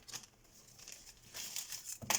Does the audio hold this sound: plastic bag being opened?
yes